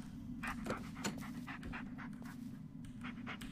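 A dog pants steadily and close by in the horror video game Blair Witch, quick rhythmic breaths running the whole time over a low constant background hum, with no talk.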